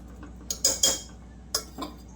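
A spoon clinks and scrapes against a metal pressure cooker several times while potatoes are stirred, short irregular knocks over a faint background hum.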